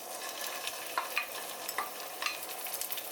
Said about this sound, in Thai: แล้วก็เอาน้ำมันลงนะคะเฮาสิมาผัด เครื่องแกงของเขานะคะที่ตำลงไปเมื่อกี้นะคะ